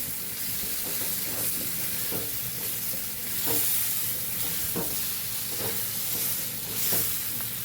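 Kathiyawadi patra bites fry in a pan with a steady, close sizzle, punctuated by regular scraping knocks from stirring roughly every second.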